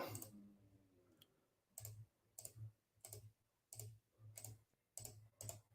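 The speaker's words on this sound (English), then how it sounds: "They're clicking every individual number" A number is entered one digit at a time, producing a series of close, crisp clicks in small clusters. Each press is a sharp tick, and the clusters are spaced roughly every half second.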